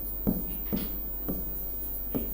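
Chalk or marker strokes on a board during a Hindi lesson, four separate scratchy taps spaced roughly evenly, close and clear with no talk over them.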